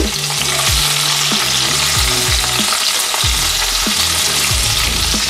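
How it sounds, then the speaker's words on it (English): Capers and olives sauté in hot oil, giving a loud, dense, continuous sizzle with recurring scraping stirs, up close and with no speech. "We're gonna let it saute for a little bit"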